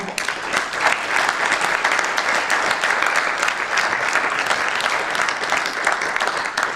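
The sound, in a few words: audience applause for the sound technicians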